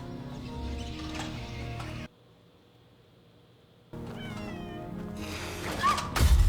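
In a House of the Dragon episode, a cat meows several times against a layer of background sound. A short near-silent gap falls in the middle, and louder noise arrives toward the end.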